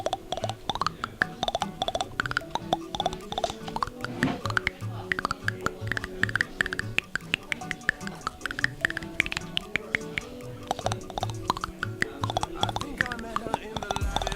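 William Tell Overture tapped out on a man's teeth, a rapid close clicking rhythm of small ticks and taps with faint background noise throughout.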